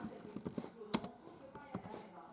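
Typing on a laptop keyboard, a string of light, irregular key clicks with one sharper tap, close and quiet, with soft speech faintly underneath.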